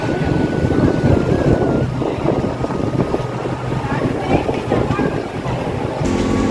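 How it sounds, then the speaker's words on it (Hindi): Wind gusts across an open mall parking lot in Raipur, buffeting the microphone with loud rumbling low noise and a mechanical hum underneath. "मस्त फुरफुर हवा चला थे"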